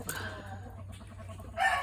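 Chickens cluck on a farm during feeding, with soft intermittent clucks and a brighter burst near the end, fairly faint against a low steady background.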